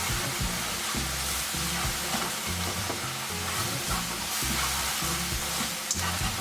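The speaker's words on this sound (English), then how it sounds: "trick to stir frying is to do this quickly so things don't burn, because you're working with very high heat here" Duck stir-frying over very high heat, sizzling and crackling in a hot pan, with rhythmic scraping and tossing as it is stirred quickly; no one speaks.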